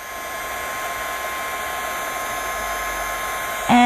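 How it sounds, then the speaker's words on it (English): A Wow heat tool running on setting 1 blows hot air with a steady, close whooshing roar that holds constant, then a sharp click and a brief higher tone near the end. "I'm using my Wow heat tool today"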